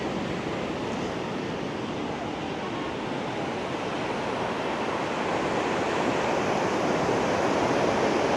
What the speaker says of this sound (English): Freedom Beach, a secluded 300 metre long beach just on the southern side of Patong